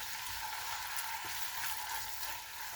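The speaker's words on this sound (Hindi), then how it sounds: "इन प्याज़ों को यहाँ पे हमने 2 से 3 मिनट के लिए हल्का सा गोल्डन ब्राउन कर लेना है।" Two medium onions, finely chopped, frying in oil over a medium flame, giving a steady, even sizzle with a soft hiss that runs unbroken and alone.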